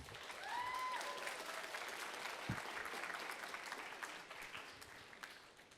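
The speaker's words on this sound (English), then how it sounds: "Let's give them a round of applause." An audience claps for the moderators after a public discussion, a full and steady round of applause that gradually thins out, with a brief whistle-like tone near the start.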